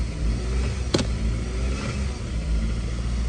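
A Dodge Avenger with a faulty throttle body runs with a steady low rumble that barely rises, sluggish and unresponsive, close and continuous, with one brief sharp click partway through.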